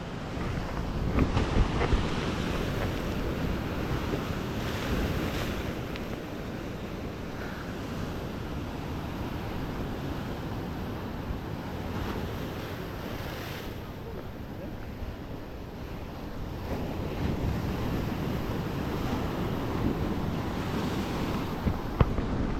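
Waves surge and crash continuously at sea, with heavy wind buffeting the microphone throughout and no pauses.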